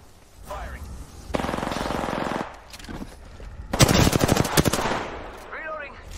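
Automatic gunfire in Apex Legends, with two loud sustained bursts of rapid shots separated by quieter gaps and a voice speaking briefly between them.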